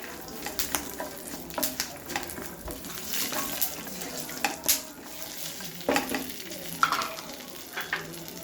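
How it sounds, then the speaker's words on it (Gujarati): Peanuts sauté in a pan over a low gas flame, a soft continuous sizzle broken by repeated scraping stirs and clinks of a spoon against the pan, close and with no talking. "સિંગદાણા આપણે થોડા સાતળી લઈશું।"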